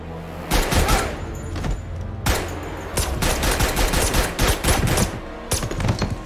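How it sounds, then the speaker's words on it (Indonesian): Loud bursts of rapid gunfire in an action film scene, several volleys, sharp and dense, with brief pauses between them and booming impacts. "Namun sayang, John akhirnya juga terkena tembakan"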